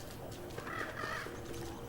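A crow-like bird caws in the Don't Starve video game, a few harsh calls set over a steady, busy game background at moderate loudness.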